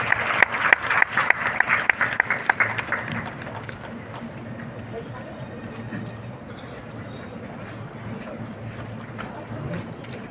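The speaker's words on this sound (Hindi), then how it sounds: "जोरदार ताली सुपौल के लिए।" Audience applause at the Medha Diwas ceremony in Gyan Bhawan, Patna: a burst of loud, dense clapping for the first few seconds fades into a low murmur of room noise.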